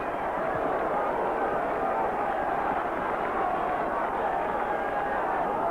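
A large rugby crowd at the 1972 North West Counties versus All Blacks match roars in a steady, distant wash of noise under a commentator's voice.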